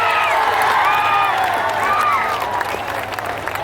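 A seated audience at a motivational speech breaks into loud, sustained applause with some cheering and shouts, filling the hall before tapering off slightly toward the end.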